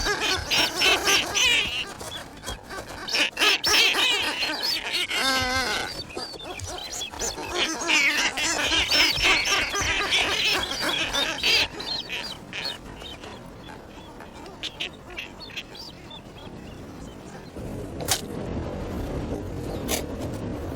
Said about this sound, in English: the boobies are breeding where the marine iguanas traditionally spend the night